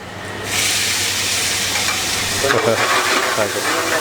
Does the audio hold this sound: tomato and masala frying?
yes